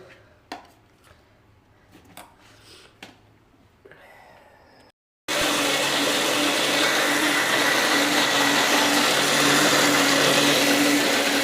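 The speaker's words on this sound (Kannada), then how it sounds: "ಕೆಳಗೆ ಕುತ್ಕೊಬಿಟ್ಟು ಮಿಕ್ಸಿ ಹಾಕಿಬಿಟ್ಟು ದೋಸೆ ಇಟ್ಟು ರುಬ್ಬಿ ಬಿಡೋಣ." An electric mixer grinder grinding dosa batter at home, starting abruptly after a few scattered clicks and handling noises, then running as a loud, continuous whirring drone that holds steady to the end.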